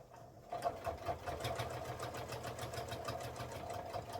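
A sewing machine stitching a laptop sleeve runs steadily with a fast, regular mechanical clatter and an irregular knocking, close and loud, with no talk over it.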